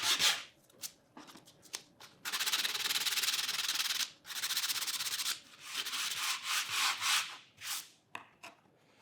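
Glued wood veneer sticks are sanded to strip off cotton, giving raspy rubbing strokes in bursts of varying length with short pauses between.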